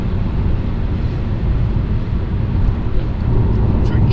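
Steady low road rumble and engine drone from inside a BMW 330ci Clubsport cruising along rural roads in England, constant and fairly loud with slight swells.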